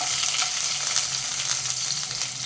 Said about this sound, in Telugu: ఇలా ఒక్కొక్కటి వేసుకొని ఫ్రై చేసుకోవాలి